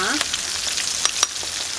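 Bean and potato hard-shell tacos deep-fry in hot oil, a close, steady sizzle broken by sharp crackles and occasional louder pops, with no one talking.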